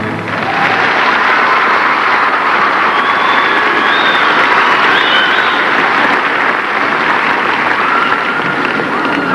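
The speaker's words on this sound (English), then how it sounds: "The crowd is applauding." A large crowd applauds loudly and continuously at a gymnastics competition, steady dense clapping throughout with no pauses.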